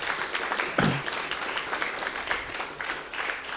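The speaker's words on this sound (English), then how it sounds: "Please give her a round of applause for being here today." An audience claps in steady applause after a talk on women in motorsport, a moderate-sized crowd heard at a distance, with a brief sharp thump near the start.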